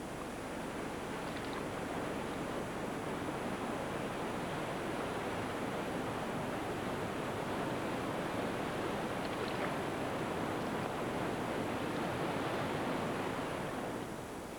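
Water rushes continuously through river rapids in a steady broadband roar, heard from a moderate distance with no voices or other sounds.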